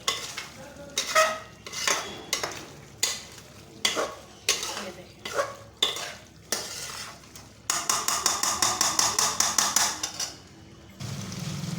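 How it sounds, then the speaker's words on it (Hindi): Green chillies fry in a karahi for a Peshawari charsi karahi, with a sizzling bed under repeated loud metal scrapes and clanks of a spatula, rhythmic strokes that speed into a rapid run of scraping before stopping. "ये डाल देंगे अच्छी तरह से और इसको भून लेंगे अच्छी तरह से, तकरीबन 2 मिनट इसको भून लेंगे।"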